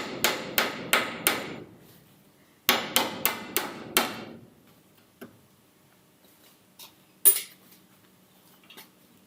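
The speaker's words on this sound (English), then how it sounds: "Oh, that's the shitty hammer." A cheap hammer strikes in two quick bursts of four or five sharp, ringing blows each, during work on 1909 hardwood flooring and a new workbench, followed by a few scattered fainter knocks.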